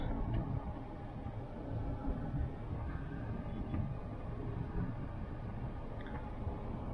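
A 2010 Kia Optima with over ten years of use pulls away, heard from inside as a steady, low, even engine and road rumble with no voices.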